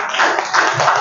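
Audience clapping at an Indonesian school gathering, a brief burst of dense applause heard close and fairly loud, with no talk over it.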